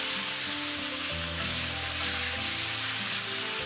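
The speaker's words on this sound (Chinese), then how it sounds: "西红柿炒至有点发软" Tomatoes and wood ear mushrooms sizzle in a hot wok with oil, a dense steady frying hiss up close with stirring underneath.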